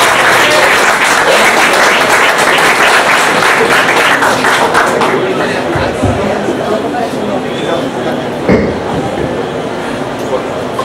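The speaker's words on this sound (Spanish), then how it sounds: "Un aplauso para él." An audience at a book presentation applauds with loud, sustained clapping that tapers off midway into quieter scattered claps and murmuring crowd chatter.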